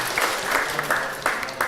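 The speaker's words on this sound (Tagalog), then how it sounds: "Palakpak po natin si Lord." Congregation at a church service clapping in praise, a dense burst of applause with rhythmic swells, moderately loud and close, with no talk over it.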